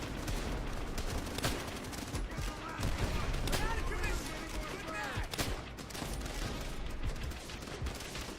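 Sustained gunfire in Call of Duty: World at War, a dense run of overlapping shots and bursts over a loud, busy battle soundscape with no clear talking.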